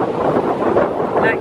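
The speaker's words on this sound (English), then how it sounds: "Like, this is too windy," Strong wind buffets a handheld microphone outdoors, a steady loud roar and rumble with gusting swells throughout.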